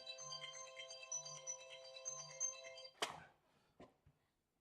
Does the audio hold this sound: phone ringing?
yes